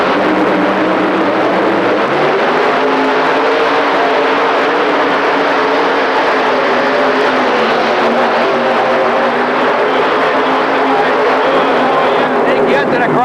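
A modified pulling tractor with a triple-engine setup roars through a 7,000 lb class run at a 1985 indoor tractor pull, a loud, sustained, rising engine drone that fills the whole stretch under an announcer's commentary.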